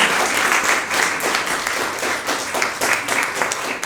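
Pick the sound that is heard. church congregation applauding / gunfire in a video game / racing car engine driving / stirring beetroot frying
church congregation applauding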